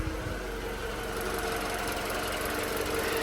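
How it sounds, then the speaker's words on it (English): A 2016 Mini Countryman 1.6 petrol automatic engine idles steadily with a smooth low hum and faint ticking, fairly close and unchanging throughout. "the engine sounds nice and sweet"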